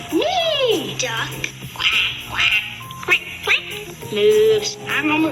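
Children at a vacation Bible school mimic a duck's quack with their voices, several loud, close, excited calls overlapping amid lively group chatter and a steady background hum.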